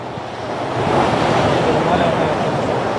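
Sea waves surging beneath a floating bridge at Varkala, a loud, continuous rushing wash of surf swelling slightly, with wind buffeting the microphone.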